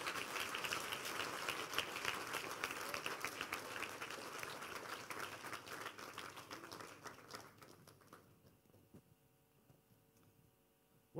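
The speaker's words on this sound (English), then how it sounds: "Clap your hand for Jesus." A church congregation claps hands together in a lively, sustained burst of applause at a conference service, fairly faint and gradually fading away into near quiet.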